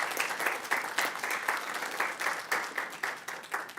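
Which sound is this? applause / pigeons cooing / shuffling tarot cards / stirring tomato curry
applause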